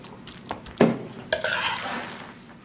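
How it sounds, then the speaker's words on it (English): Thick broccoli casserole filling is pushed and smoothed into a casserole dish with a utensil, giving a few soft scrapes and wet squishing strokes, close and moderately loud, with no talking. "I'm just smoothing this out, pushing all this broccoli casserole filling into this casserole dish"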